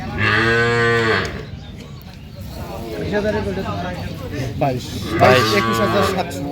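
Cattle at a livestock market in Chattogram, Bangladesh, moo loudly in two long, drawn-out calls at the start and end, with market chatter and people talking throughout.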